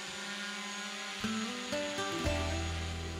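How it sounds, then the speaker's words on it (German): A camera drone spins up for takeoff beside a canyon in Finland's Julma-Ölkky National Park, its propellers rising in a buzzing, climbing whine in clear steps, loud and close. "Vito lässt mal wieder die Drohne steigen."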